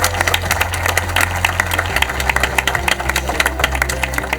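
Audience applause at a televised current-affairs quiz show prize ceremony, steady dense clapping with a low engine-like hum beneath, carrying on continuously through the moment.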